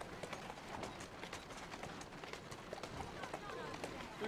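Steady horse hoof clops at a walking pace in Assassin's Creed Syndicate, close and fairly loud, with a busy clatter of layered footfalls throughout.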